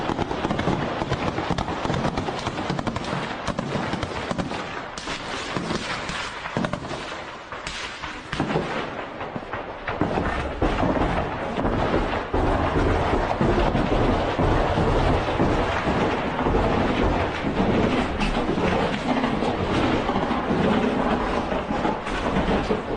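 Gunfire rattles through a street battle in eastern Ukraine, with dense bursts and sharp cracks going on all the time, some close and loud and others farther off, over a rumbling background.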